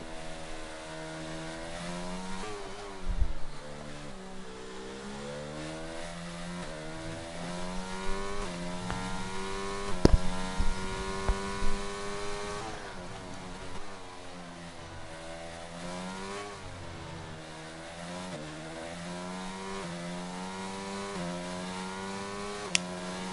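Ferrari Formula 1 cars in a racing video game at the China circuit, a steady high-pitched engine drone with rising and falling revs as the cars run together, loud and continuous with no talk.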